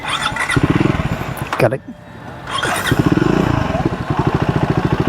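A 2025 Triumph Scrambler 400X single-cylinder motorcycle cranks, stumbles briefly, then catches and settles into a loud, steady, lumpy idle with small blips of throttle; a short spoken remark comes in between.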